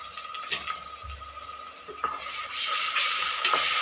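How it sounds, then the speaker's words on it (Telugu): Ginger paste frying with onions in a pan for a mutton and greens curry: a steady bright sizzle with occasional scraping stirs and clinks of a spoon against the pan, close and continuous. "ఇప్పుడు అల్లం పేస్ట్ వేసుకుంటున్నాం 1 స్పూను."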